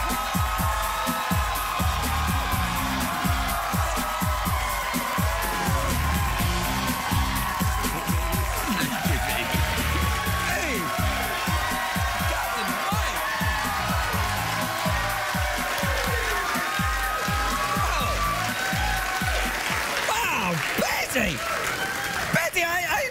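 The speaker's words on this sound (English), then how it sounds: "Please give a warm round of applause for Captain White," Studio audience at a Betty White comedy special breaks into sustained applause and cheering, a dense, loud wash of clapping with scattered whoops that carries evenly throughout.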